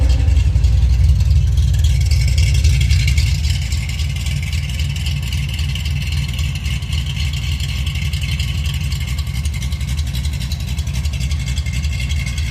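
A Ford Foxbody's engine idles cold, before warming up, with a steady low rumble that sits loud and close throughout; a brief louder surge in the first few seconds settles into an even idle.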